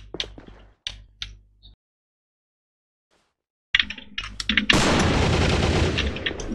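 Gunfire in an AVA online shooter league match: a few sharp, loud shots, a silent gap, then a cluster of shots that breaks into a long, dense stretch of continuous rapid fire.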